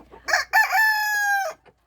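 A backyard rooster at a dacha flock of laying hens crows once, loud and close, a long drawn-out call preceded by a couple of short clucks and chatter.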